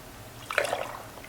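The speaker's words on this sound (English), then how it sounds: "And I'll start adding the new salt water" New salt water poured from a 5-gallon bucket into a saltwater aquarium, a brief soft splashing trickle lasting under a second over quiet background.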